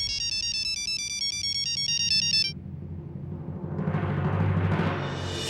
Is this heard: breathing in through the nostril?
no